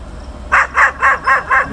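A dog barks five times in a steady, evenly spaced run, loud and close, after a brief quiet start with no talk.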